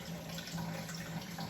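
Water drains from cooked, cooled tenderstem broccoli as a faint, steady trickle and patter, quiet and continuous over a short stretch with no talk.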